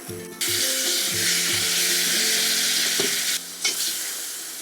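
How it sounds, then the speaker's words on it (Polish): Steady sizzling and stirring in a pot as chocolate glaze melts, loud and close, with a few knocks of the utensil against the pot and a sharp clatter near the end. "Sypujemy do garnka naszą polewę i rozpuszczamy"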